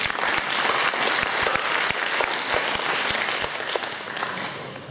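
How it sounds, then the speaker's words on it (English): An audience at an annual function applauds a stage act with loud, dense clapping that holds steady and then eases slightly toward the end. "Give them a loud applause, please."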